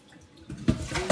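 Kale leaves rinsed under a running kitchen tap, a soft splashing of water that starts quiet and swells after the first half-second, with brief louder gushes as the leaves are moved through the stream.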